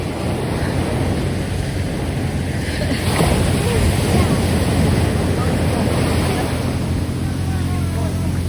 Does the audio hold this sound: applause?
no